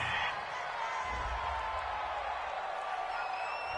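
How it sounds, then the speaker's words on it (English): A home crowd roars and cheers in a football video game, a broad steady wash of crowd noise with a louder swell near the start. "This home crowd, they're happy with that call."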